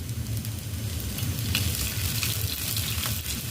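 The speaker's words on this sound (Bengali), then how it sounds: "এবার আমি পেঁয়াজটাকে ভেজে দিয়ে দেবো।" Chopped onions frying in a hot pan for egg chowmein, a steady close sizzle with crackling bursts throughout and no voices.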